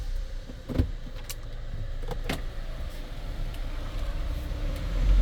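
A Kia Sorento 2.0 diesel's sunroof motor hums as the panel slides shut, with a few light clicks and knocks inside the cabin, ending with a soft thud.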